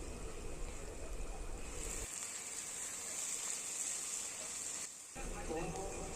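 Pre-fried fish pieces go into a pan with potatoes for a mixed fish curry and are stirred, making a steady hiss of frying oil that briefly drops away and returns as the pan is handled.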